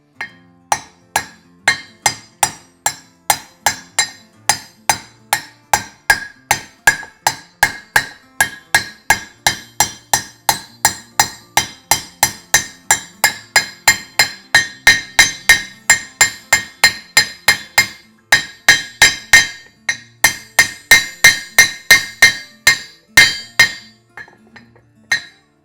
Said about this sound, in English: tap this in with a copper face hammer, and the bush will drift into the housing easily